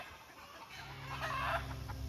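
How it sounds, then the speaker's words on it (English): Chickens upset by a nearby hawk cluck faintly from a distance outdoors, soft agitated clucks over a low background hum. "Old hawk got all these chickens upset."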